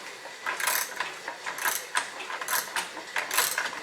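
A wrench works loose a stuck can in an HP Everclean water heater, giving repeated metallic ratcheting clicks in short bursts about once a second, close and fairly loud with no talking.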